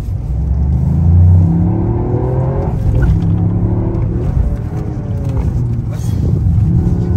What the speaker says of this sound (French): En petit 3 cylindres. Après, c'est très léger.